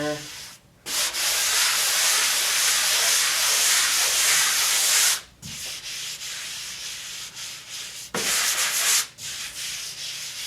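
A drywall patch being sanded by hand, long continuous rasping strokes up close, broken by a few short pauses between passes, with no voices.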